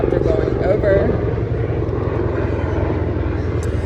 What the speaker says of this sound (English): there is a helicopter going over